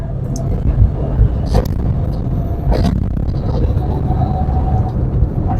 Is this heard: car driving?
yes